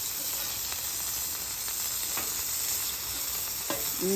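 Chicken sizzling steadily on a flat-top griddle, a continuous frying hiss with a few brief scrape and flip accents from a spatula, close and even in level, no talking.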